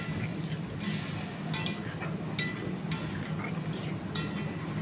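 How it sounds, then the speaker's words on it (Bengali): Potatoes coated with turmeric and garam masala are stir-fried, with a low background fry and a series of light metallic clinks and scrapes from the spoon against the pan; no speech. "দিয়ে খুব ভালো করে আলু আর মশলাকে কষে নেব।"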